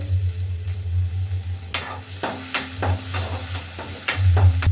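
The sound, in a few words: ginger and garlic frying in oil for macaroni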